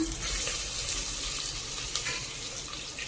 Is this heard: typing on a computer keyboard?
no